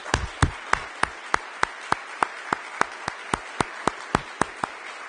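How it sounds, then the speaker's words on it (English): A few hands clap in a slow, steady rhythm for Department of Transportation staff at an equity summit, sparse, evenly spaced claps rather than a full crowd ovation. "A big applause to all of them who do a great job."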